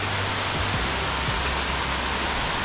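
Water flows along an overhead channel in the village of Ramsau bei Berchtesgaden, Germany, making a constant, dense rushing hiss that stays even and loud throughout, with no voices.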